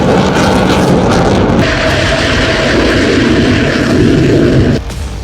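A fighter jet roars loud and close for about five seconds in a dense, unbroken wash of engine noise that cuts off abruptly near the end.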